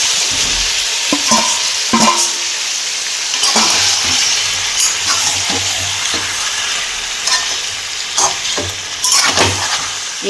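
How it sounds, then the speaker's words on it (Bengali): Potatoes are stirred into fried mutton kosha in a pan, with loud scraping strokes of a spoon at irregular intervals over a constant close sizzle. "মাংস কষানো হয়ে গেছে, এবার ওর সঙ্গে আলুটা আমি দিয়ে দিচ্ছি।"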